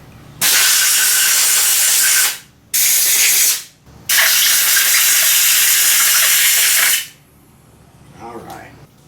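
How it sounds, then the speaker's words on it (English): Compressed air hisses out in three strong bursts while cleaning bolt holes for motorcycle swingarm extensions, loud and close, with short pauses between blasts and a faint trailing noise afterward. "If you have compressed air, makes things much nicer."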